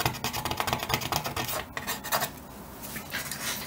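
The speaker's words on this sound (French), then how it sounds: "On gratte tout l'ancien collant." Old adhesive being scraped off inside a MacBook Pro A1398 during a battery replacement, a steady close rasping and scratching of repeated strokes with no talk.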